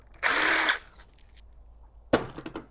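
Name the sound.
removing Allen bolts from Nissan Altima CVT transmission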